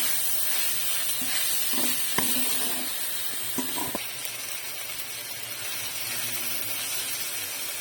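Mixed vegetables sautéing in a pan for a hotel-style vegetable white kurma, a steady close sizzle and hiss with a few brief stirring clinks and scrapes partway through.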